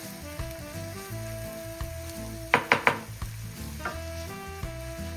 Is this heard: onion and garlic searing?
yes